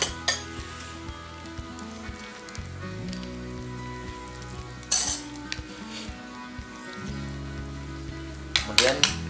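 Chili sizzles and fries in a pan for meatball noodles, a steady crackle with occasional clinks of a utensil against the pan and a few sharper bursts of spattering.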